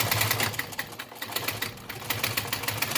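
An auto upholstery sewing machine runs at a steady pace, its needle thumping in a fast even rhythm with a brief slowdown midway, loud and close.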